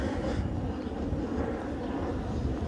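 Airplane flying near an airport: a continuous broad roar of aircraft engine noise, loud and steady throughout, with no voices.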